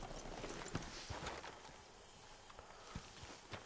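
A horse's hooves clip-clop at a walk in the video game Red Dead Redemption 2, with quiet, irregular thuds close by.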